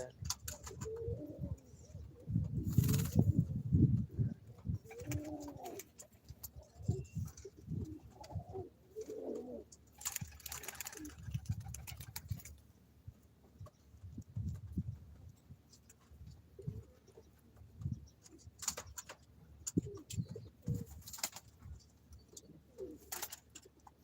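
Pigeons on a hobby farm cooing repeatedly in low, throaty, rhythmic bursts, close by, with soft rustling and shuffling between the calls.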